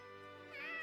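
Brief cat meow in the video game Fire Emblem Three Hopes, a single close, clear voiced mew that rises in pitch toward the end, heard alone.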